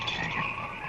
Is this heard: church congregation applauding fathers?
no